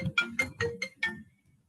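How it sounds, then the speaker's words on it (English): A phone ringtone plays five quick bright chiming pulses in a steady rhythm, fairly faint, ending in a short fading tail. "Said son is calling, so let me put my phone on mute."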